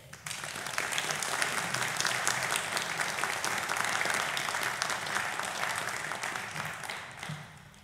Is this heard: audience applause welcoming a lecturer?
yes